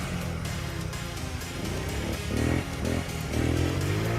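A small 50cc dirt bike engine buzzing and revving during a ride, with rising and falling surges under constant wind noise close to the rider.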